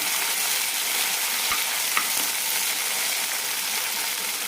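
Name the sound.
sautéing chopped tomato and green chillies in oil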